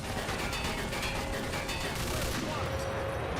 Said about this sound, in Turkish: Hadi şuradaki makinalı tüfeği kullan diyor.